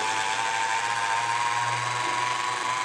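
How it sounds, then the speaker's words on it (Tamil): Electric blender running steadily while mixing caustic lye for homemade herbal soap, a loud continuous motor whine and whir, close and unbroken. "அதனால் நம்ம இப்போ பிளெண்டர் யூஸ் பண்ண போகிறோம்."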